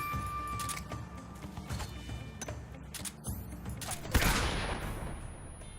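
A single gunshot in Metal Gear Solid 3 lands as a sharp crack around four seconds in, within a busy mix of game effects, music and a brief voice.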